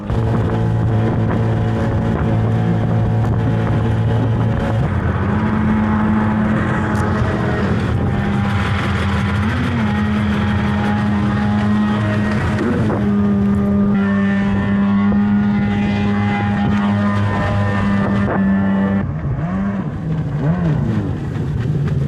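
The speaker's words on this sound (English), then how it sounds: "I gotta drive the setup crew boat with a giant ramp on it." A small motorboat engine drones loudly and steadily throughout, its pitch shifting slightly as it revs, with wind buffeting the microphone.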